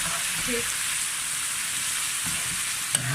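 Minced meat (keema) fries in a pan with a steady, close sizzle and soft crackle throughout, a faint stir or scrape near the end, and no one speaking.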